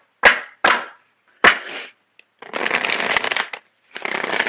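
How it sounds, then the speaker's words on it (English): Tarot cards being shuffled by hand: three sharp riffle snaps followed by two longer, dense bursts of cards riffling and bridging, close and clear with no voices. "So I'm going to shuffle the cards."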